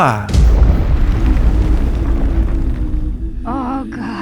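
A loud, deep explosion with a rumbling boom that sustains for several seconds, followed by a warbling tone at the end.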